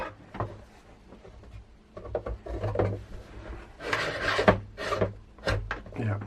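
A stuck part is worked free from a Commodore CD32 console in a series of close scraping, rubbing and clicking bursts with short pauses, ending in a sharper pull and a scratchy release.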